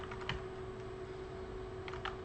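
A few quiet computer keyboard keystrokes, a short cluster of clicks near the start and another near the end, as Control-V is pressed to paste while editing code.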